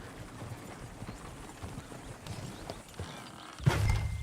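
Horse hooves clip-clopping in Red Dead Redemption 2, soft and fairly distant over ambient background, ending in a louder thud near the close, with no speech.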